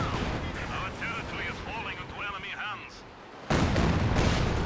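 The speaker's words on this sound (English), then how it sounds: "Katusha barrage onto the MG34." A Katyusha rocket barrage in the Company of Heroes 2 strategy game fires amid a noisy battle, with whistling rocket streaks over a dense rumble before a loud burst of impacts near the end.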